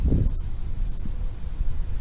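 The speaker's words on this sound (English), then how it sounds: "it's a little bit windy, so a little chop" Steady low rumbling wind buffets the microphone throughout a small drone's test flight outdoors, with a gusty, blustery roar and no voices.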